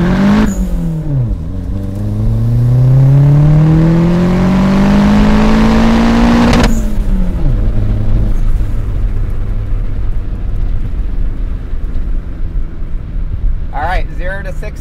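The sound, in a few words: turbocharged Mazda Miata launching and accelerating 0-60 mph, tires spinning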